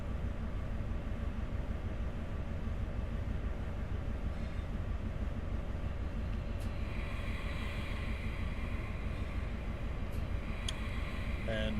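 An HST train in Train Sim Classic runs with a steady, loud diesel drone and rolling rumble throughout, with brief higher tones late on and no talk.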